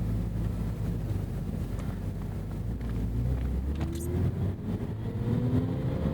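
A 1991 BMW M5 (E34) engine hums steadily while driving, a smooth low drone with road and wind noise, the pitch rising gently toward the end.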